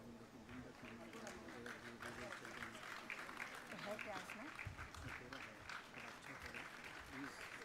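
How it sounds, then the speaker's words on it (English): Audience applause fills a hall at an innovation award ceremony, steady dense clapping sustained throughout at close range, with voices and crowd murmur mixed underneath. "A round of applause for Professor Nagabhushan Raju."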